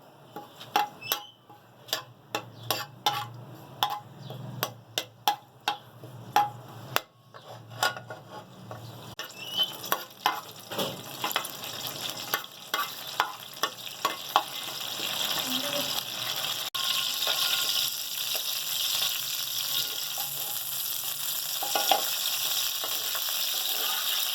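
Curry leaves drop into hot oil in a pan, giving a series of sharp crackles and pops that build into a steady, dense sizzle, close and moderately loud, with no talking.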